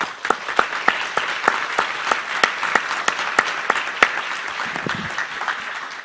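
An audience applauding at the closing session of the OECD Forum 2018, a steady round of applause from a crowd with individual sharp claps punctuating it throughout.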